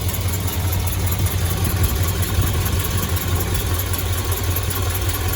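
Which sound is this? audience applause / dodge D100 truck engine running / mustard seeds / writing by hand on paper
dodge D100 truck engine running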